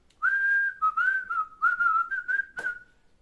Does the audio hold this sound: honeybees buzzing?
no